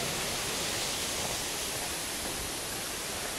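Kintampo Waterfalls in tropical Ghana send out a constant, dense roar of falling water, even and unbroken, with nothing else heard.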